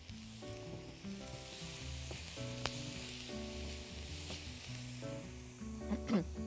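Onion and whole spices (black pepper, nutmeg, cinnamon, allspice) sizzle in melted butter with a steady crackling hiss. A sustained musical backdrop with a few brief clinks plays underneath.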